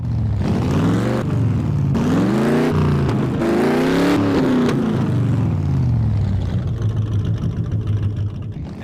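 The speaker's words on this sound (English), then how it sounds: "That growl isn't just exhaust, it's attitude wrapped in octane." A Ford Mustang GTD engine revs loudly in repeated rising pulls, its exhaust growling close by, then settles to a lower rumble as it fades near the end.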